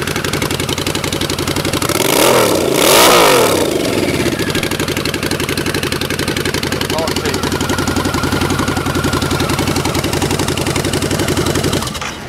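A Harley-Davidson V-Rod Night Rod Special VRSCDX with loud pipes revs up sharply twice early on, then settles into a steady, loud, pulsing idle close by.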